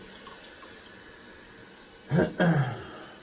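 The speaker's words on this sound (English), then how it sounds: "I wash out my brush" A shaving brush rinsed under a running tap, with two short, fairly loud bursts of splashing water near the end after a quiet stretch.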